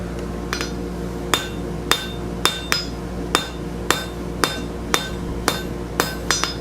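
A blacksmith hammers the end of a 3/4 bar to draw out a tenon, striking in a steady rhythm of sharp ringing metallic blows about every half second. The strikes are close and clear over a low background hum.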